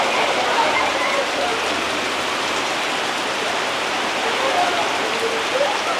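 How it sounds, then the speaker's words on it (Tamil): Heavy rain pouring down in Sri Lanka's Mullaitivu area, a dense, continuous hiss of drops striking surfaces close by, steady and loud throughout without pause. "மழை அடித்து பொழியுது. மழையை இந்த மழை இப்போதைக்கு நிற்காது."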